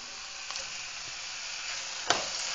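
Meat searing in a hot pan for a Christmas chili, a steady close broadband sizzle with a couple of brief louder pops and crackles, no talk.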